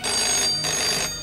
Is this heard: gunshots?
no